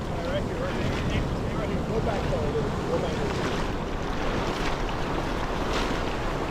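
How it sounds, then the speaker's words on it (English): Ocean waves crash against a limestone shore at a beach in Arecibo, Puerto Rico, a continuous loud roar of surf with steady wind noise and no pauses. "Got the waves crashing against the limestone here, making this beautiful, spectacular."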